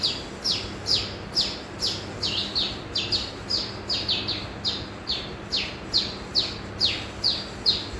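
A baya weaver calls again and again: a run of thin, high, sparrow-like chirps and buzzy notes in a quick, fairly regular rhythm, clear and moderately close over soft background hiss.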